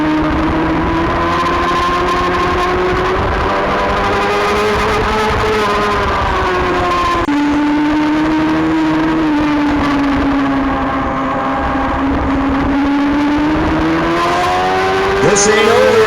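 A racing motorcycle in the 2016 SOAR Round 4 Formula Femme final, its engine howling continuously at high revs as the rider opens the throttle deeper into the braking zone. The pitch sways slightly while staying loud and close throughout.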